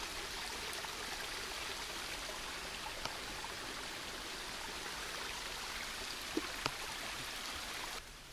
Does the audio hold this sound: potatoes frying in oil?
no